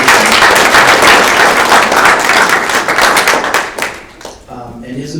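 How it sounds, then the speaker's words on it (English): A room full of people applauds a student at a school award presentation, loud, dense clapping that fades out in the last second as a voice begins talking. "So let's give him a round of applause for that."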